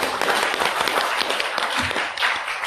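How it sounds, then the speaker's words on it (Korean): Applause from the audience at a Won Buddhist mind-study talk concert, dense steady clapping that holds at an even, fairly loud level throughout without any speech. "큰 박수 한번 주시기 바랍니다"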